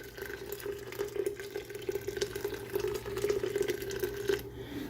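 Boiling water pours steadily from a pot over jars of homemade grape juice sitting in a canner, a continuous close splashing and gurgling that ends abruptly.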